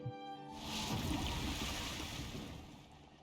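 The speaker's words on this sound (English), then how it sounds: "The sound of a toilet bowl flushing." A toilet bowl flush from the video game Timberborn, a rushing, swirling water sound that swells quickly and holds steady before fading slightly, heard alone without speech.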